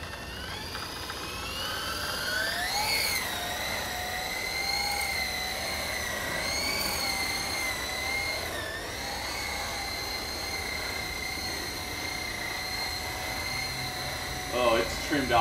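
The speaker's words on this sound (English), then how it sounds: "I'm just going to cruise around the yard." E-Sky Lama V4 radio-controlled helicopter cruising around a yard outdoors, a steady high-pitched electric motor and rotor whine that rises and dips in pitch as it maneuvers, continuous and fairly close throughout.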